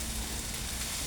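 Fried rice sizzles in a hot pan, a dense steady hiss filling a brief moment with no other sounds.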